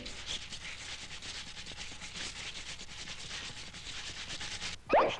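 Cartoon scrubbing sound effect from the 1965 Sad Cat short, a steady raspy brushing texture running for several seconds, then breaking off into a short, sharp louder sound at the end.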